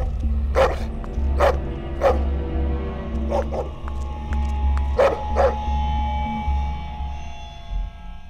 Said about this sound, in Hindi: पता नहीं लियो को क्या हो गया, बहुत वायलेंट हो गया अचानक, संजना को देख के भौंकने लगा।